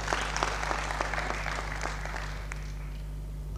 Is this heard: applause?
yes